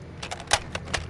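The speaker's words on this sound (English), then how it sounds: "Changing mags." A weapon magazine is swapped during Modern Warfare 2 gameplay: a quick run of sharp metallic clicks and clacks, close and clear, over a faint background.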